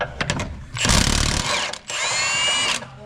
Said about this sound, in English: Now let's move around to the crank pulley, 18mm on your Milwaukee